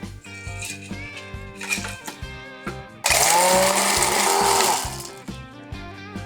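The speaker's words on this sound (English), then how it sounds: "I'm using the drink mixer, so we'll mix this for about 8 to 10 seconds." Drink mixer blending a Gold Rush cocktail with ice, a loud steady whirring burst of about two seconds that rises sharply mid-clip over background music and then stops.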